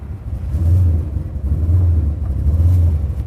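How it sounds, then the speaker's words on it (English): A 700-horsepower Camaro hot rod revs in repeated low rumbling surges, roughly three pulses, as its tires spin on ice, loud and close with no talk. "You put it in gear and it spins the tires."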